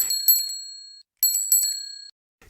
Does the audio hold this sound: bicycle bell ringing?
yes